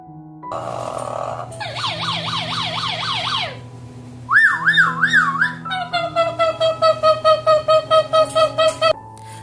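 An Amazon parrot imitates an ambulance siren, producing loud, clear whistled wails that rise and fall, then rapid warbling sweeps and a series of evenly pulsed tones, close and alone.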